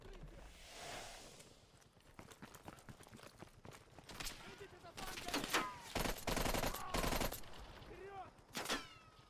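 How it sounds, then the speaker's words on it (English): Gunfire in Call of Duty Black Ops Cold War, PS5 mission Operation Chaos: bursts of rapid automatic shots and scattered single cracks at varying distance, with a stretch of sustained heavy firing in the middle and later bursts. "Who's shooting?"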